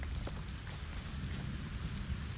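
Steady rain in the Fortnite LEGO survival mode, a dense even hiss with low rumbling underneath that continues unbroken, with no voices over it.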